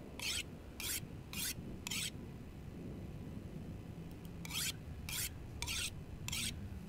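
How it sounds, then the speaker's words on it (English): Repeated rasping strokes of a whetstone drawn along the flat of a knife blade toward the edge in the survival video game The Long Dark, four quick scrapes, a pause, then four more, clear and close over low background rumble. "the way that you run or use a whetstone to improve something is you run the whetstone along the flat of the blade, and just try and run it up to the edge"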